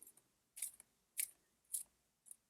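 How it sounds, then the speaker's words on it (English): Tarot cards being shuffled by hand, four crisp riffling bursts spaced about half a second apart with near-silence between them, close and fairly quiet. "just start shuffling, like moving them back like this"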